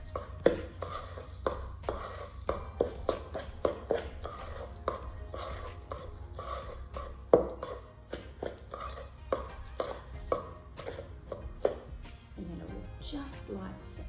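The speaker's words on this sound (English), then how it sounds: "and then we'll give that a stir" Spoon scraping and clinking against a bowl as chocolate truffle mixture is stirred, a steady run of sharp taps and scrapes close by, with a voice talking over it.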